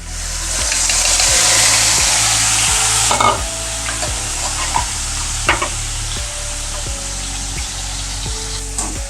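Prawns coated in salt and turmeric fry in a pan, a loud continuous close-up sizzle with a few stirring knocks and a low steady hum beneath.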